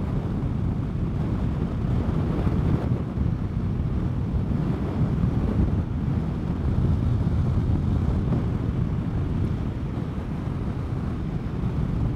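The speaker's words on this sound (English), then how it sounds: "About a 20 mile an hour wind today." Strong wind of about 20 mph roars steadily into the microphone while riding a Vespa GTS 300 Super Sport scooter on a cold day, a constant low rumbling buffet with no break.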